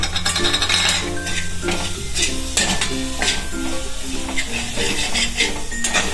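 A spoon stirs and scrapes a beetroot ladoo mixture with jaggery in a pan over a low flame, with a steady scraping, soft sizzle and occasional metal clinks, under faint tonal background sounds.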